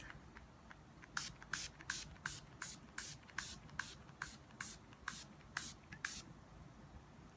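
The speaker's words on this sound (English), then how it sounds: "I'm just going to spray my face." A makeup setting spray mists onto a face in a steady series of about fifteen short, crisp bursts, evenly spaced and close by, with no talking.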